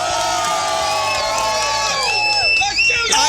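Loud crowd cheering and whooping at an outdoor geocaching block party, excited shouts and whistles rising over a busy din for a few seconds.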